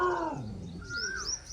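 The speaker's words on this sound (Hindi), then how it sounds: "कोयल की आवाज कैसे आ रही?" An Asian koel calls near a village home in Punjab, Pakistan, giving a short rising whistled note that carries at moderate distance over a low background rumble.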